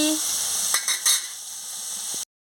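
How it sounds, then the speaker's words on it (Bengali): Poppy seed paste with turmeric and chili powder fries in a pan, giving a steady close hiss broken by a few short scraping stir sounds before cutting off abruptly. "আমি ভালো করে মশলাটাকে ভেজে নিচ্ছি মশলা মানে পোস্তটাকে ভেজে নিচ্ছি"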